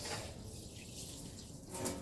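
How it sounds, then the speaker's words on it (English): Water sprayed over a dip box condenser coil during cleaning makes a steady, close, rushing hiss with a brief louder splash near the end. No voices are heard. "rinse some water so that all this gets rinsed off"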